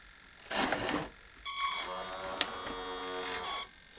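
The hydraulics of a DIY RC Caterpillar D6 model dozer whine as the blade lowers, a close, steady electric-motor buzz lasting about two seconds after a brief earlier burst of the same sound.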